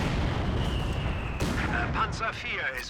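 Mortar shells and artillery thump in a Company of Heroes 2 battle, with a continuous rumble of booms and distant explosions under a commentator's talk throughout.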